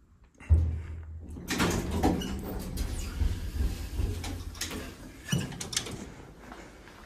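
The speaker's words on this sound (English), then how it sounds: "the doors don't sound that great either" Worn Schindler 321A elevator doors at a Penn State Behrend building open and close: a sharp thump, then a long rumbling slide with rattles and a second knock near the end.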